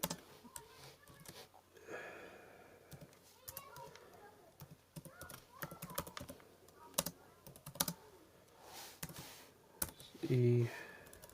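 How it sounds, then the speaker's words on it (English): Typing on a computer keyboard while entering code, a run of quick, irregular key clicks close by at moderate volume, with a few louder taps and brief noises mixed in. "Then we're going to type"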